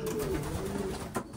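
Young birds cooing in their loft section, a soft, low, steady coo running through the whole moment at close range.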